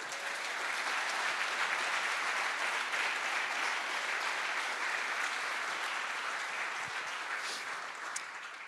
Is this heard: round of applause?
yes